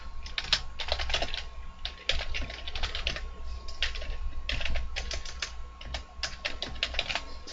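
Rapid clicking keystrokes on a computer keyboard, close and clear, come in quick irregular bursts with short pauses between them while text is entered. No one speaks.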